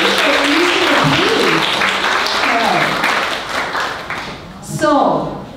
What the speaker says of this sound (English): Let's give all of you guys a big round of applause for using the team.